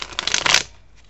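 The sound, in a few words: shuffling tarot cards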